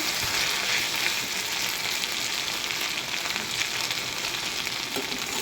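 Okra fries crisp in oil with no water added, a continuous close crackling sizzle with faint stirring movements underneath.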